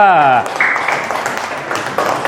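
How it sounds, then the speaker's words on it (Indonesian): A voice trails off, then a crowd bursts into steady applause, loud and sustained throughout. "Tepuk tangan untuk kelompok 2"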